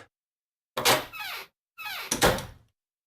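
A door swings open in the video game Zero Escape: 999, sounding as two separate bursts, each a creaking, scraping sweep with a thud, clear and alone with no talk.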